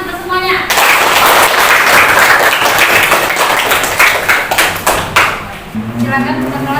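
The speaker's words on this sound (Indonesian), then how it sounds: "Tepuk tangan untuk semuanya" A classroom of pupils claps for everyone at a teacher's prompt, a loud burst of dense applause that thins into scattered claps, with voices framing it at the start and end.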